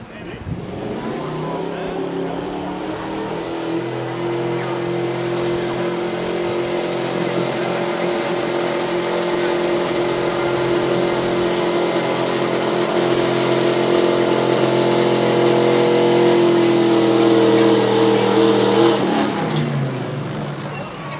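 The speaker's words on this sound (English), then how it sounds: "You got Joe Breeden coming out on the track with a 94 F350, good looking truck." A 1994 Ford F350 pickup pulling at a truck and tractor pull, its engine roaring loud and sustained with rising revs through the run before cutting off near the end.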